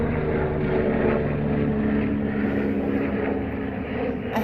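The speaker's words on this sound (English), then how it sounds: "A helicopter." Steady droning rotor and engine noise from a helicopter flying overhead, loud and constant throughout with no talk.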